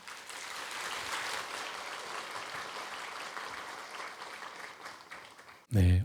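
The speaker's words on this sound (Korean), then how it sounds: "큰 박수로 모시겠습니다" A church audience applauds to welcome the pastor to the pulpit, a steady wash of clapping for several seconds that ends in a sudden loud thump near the microphone.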